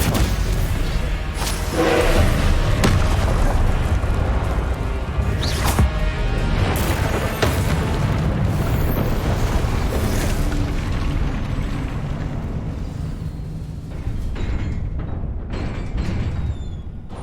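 Fiery Confringo spell blasts go off in Hogwarts Legacy amid a busy, continuous battle din, with several sharp booms in the first half and dense rumbling effects all the way through.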